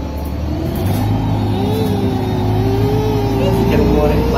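MAN engine of a BredaMenarini M240NU city bus on line 12 in Mantua accelerating, a steady, loud rising drone heard from inside the bus, with people talking over it.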